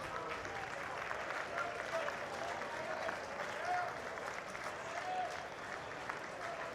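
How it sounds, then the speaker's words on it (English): Oregon State fans at a college baseball game make a steady, distant crowd roar with scattered applause, a continuous wash of cheering under faint voices. "the Oregon State fans cheer absolutely everything"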